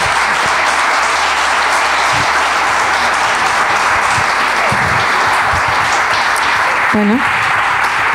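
Sustained audience applause fills a university lecture hall at the close of a conference on artificial intelligence, steady dense clapping throughout with a few brief spoken words over it.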